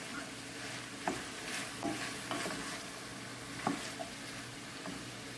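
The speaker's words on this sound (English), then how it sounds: "we want to let that saute up" Chicken a la king ingredients, including button mushrooms, sautéing in a pan: a steady soft sizzle with occasional stirring scrapes and light knocks, close and moderate, with no talking.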